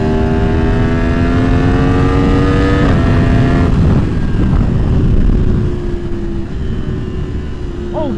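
A 2023 Yamaha MT-10 motorcycle accelerates hard on a mountain parkway, its engine note climbing through loud revving pulls with brief shift breaks, then easing back to a lower steady drone.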